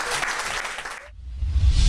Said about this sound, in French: Applaudissez bien fort le Seigneur.